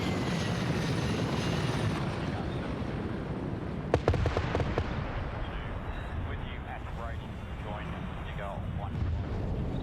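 Cobra attack helicopter going down in a multiplayer military game, its steady rotor and engine roar rumbling under excited voices, with a sharp crackling burst of impacts partway through.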